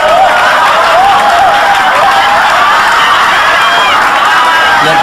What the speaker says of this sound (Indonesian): Saya mohon beri tepuk tangan untuk Rio Dewanto